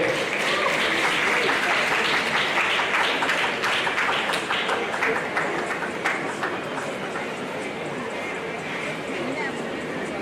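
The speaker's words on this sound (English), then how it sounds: "Please, we can clap for them." An audience at an oath-taking induction ceremony for a science laboratory technology faculty applauds steadily, a dense wash of clapping that holds for the whole stretch before thinning slightly near the end.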